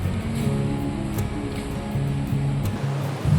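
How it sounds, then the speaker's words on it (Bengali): Sea waves surging onto the beach at the Digha estuary mouth, a continuous rushing wash with low steady rumble, heard alone with no talk. "একের পর এক ঢেউ আছড়ে পড়ছে এখানে"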